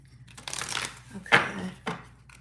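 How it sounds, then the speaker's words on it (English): Pulling oracle cards from a deck during a reading, a short burst of close card shuffling and sliding with papery swishes and a crisp snap in the middle. "I'm going to pull out the Ancestor cards"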